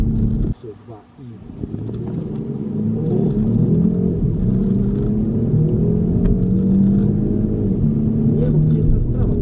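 Electric 460 HP Porsche launching hard at night in Warsaw, a rising low rumble and wind roar building steadily after a brief drop at the start, heard from inside with people talking over it.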